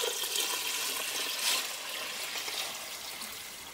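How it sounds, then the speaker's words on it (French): Water pours steadily into a cooking pot over hemp seed, a soft continuous splashing hiss that fades slightly toward the end, fairly quiet. "Donc maintenant on va rajouter de l'eau."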